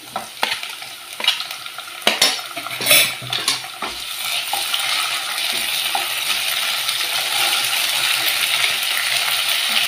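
Onions browned in a pan get a little ginger paste stirred in, with sharp spoon scrapes and clinks against the metal pan early on, then a steady loud sizzle of frying filling the rest, no talk.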